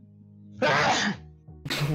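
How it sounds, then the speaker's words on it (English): A single loud, close sneeze bursts out explosively, followed by a short pause and a second sharp burst like a cough, over a quiet background hum during a Rocket League game stream. "That sounded like a cough and a sneeze and an everything."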